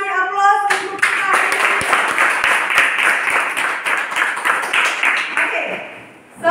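A class of 7B students applauds together, loud close clapping that runs steadily for several seconds with some voices mixed in, then fades out near the end.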